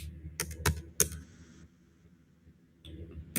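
A few sharp keystrokes on a computer keyboard while writing HTML code in a training session, quiet, close and irregular, with clustered taps early, then a long lull and a faint final tap.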